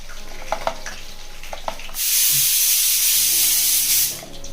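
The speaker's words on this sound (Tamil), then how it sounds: "மீடியம் ஃப்ளேமில் பொரிப்போம்." Fish with chilli and garlic goes into oil over a medium flame; a few light clinks give way to a sudden, loud, steady frying hiss that holds for about two seconds before fading.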